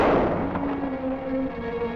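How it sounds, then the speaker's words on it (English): Gunshot from a 1952 TV western, a loud, close report that decays into a long ringing tail over about two seconds. "Senor Kells, you take the first shot."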